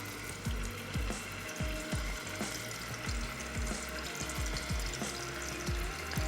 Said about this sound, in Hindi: इसको रख लेते हैं फ्राई होने के लिए